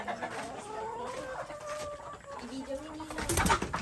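Pet hens on a home farm clucking and calling at close range during feeding and egg collection, with a few drawn-out cackles and a louder flurry near the end.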